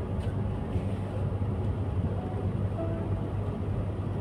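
Passenger train carriage rumbling steadily along the rails, heard from inside as a continuous low, fairly loud drone with no voices.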